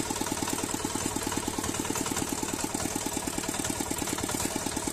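An old 2007 farm machine with its original parts and a once-rebuilt engine runs steadily nearby while digging potatoes, its rapid, even chugging pulses continuing without a break and with no voices.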